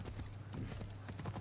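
A horse's hooves clip-clop in a steady trotting rhythm in the video game Assassin's Creed Odyssey, fairly quiet and close, with a faint voice in the background.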